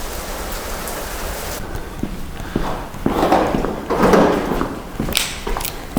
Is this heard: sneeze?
no